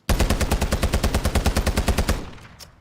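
Sustained full-auto burst from a Taq V rifle in Modern Warfare 3, roughly twenty rapid evenly spaced loud shots in a steady rhythm, then a short echoing tail after the trigger is released.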